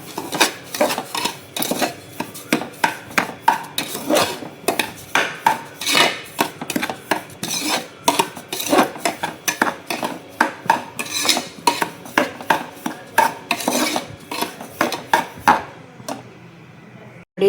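Semolina roasting in a pan, stirred with quick rhythmic metal scrapes and clinks against the pan, loud and close, continuing for many seconds before stopping abruptly.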